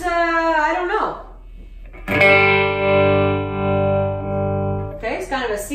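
Guitar played through a Boss Katana amp with a T-wah auto-wah effect, a sustained distorted chord sweeping in tone between bursts of quick, filtered note runs at start and finish.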